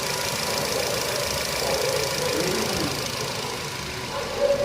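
A car engine idles with a torn vacuum hose letting outside air into the intake manifold, making a steady, continuous mechanical drone with a light knocking rhythm and a hissy wash over it. No one speaks.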